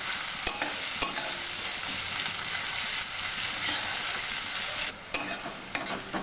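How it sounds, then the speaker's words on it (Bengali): Onions frying slowly over low heat in a pan, a steady soft hiss with sharp clicks and scrapes of a spoon stirring now and then, close and alone without talk. "কম আঁচে আস্তে আস্তে করে পেঁয়াজটাকে ভাজবো"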